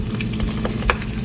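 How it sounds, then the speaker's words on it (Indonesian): Arancini balls made from leftover rice deep-fry in hot oil, a close, steady crackling sizzle with bursts of popping and bubbling throughout. "Yuk, sekarang kita coba goreng."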